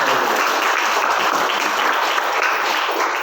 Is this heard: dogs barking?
no